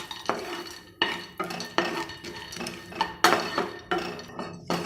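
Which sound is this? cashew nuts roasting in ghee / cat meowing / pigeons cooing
cashew nuts roasting in ghee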